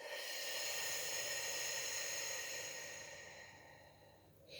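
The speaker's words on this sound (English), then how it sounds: "we're going to take a deep breath in, fill up the lungs and exhale out" A slow, deep breath out during a guided breathing exercise, with a soft, breathy rush of air that fades gradually, then a brief start of a new inhale at the end.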